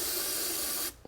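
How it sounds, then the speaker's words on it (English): A short, steady hiss of aerosol carbon cleaner sprayed from a can into a Volkswagen GTI intake, close by, cutting off abruptly near the end. "Go ahead and spray it in"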